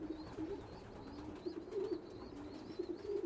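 Racing pigeons kept for breeding coo softly in a loft, with repeated low throaty calls and overlapping soft warbles, faint and close, with no voices.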